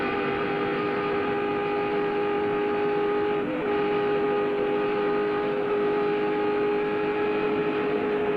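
Onboard view of Bobby Labonte's NASCAR Winston Cup car at the 1998 Budweiser Shootout at Daytona, its engine droning as a steady high-revving whine at near-constant pitch, loud and continuous without any talk.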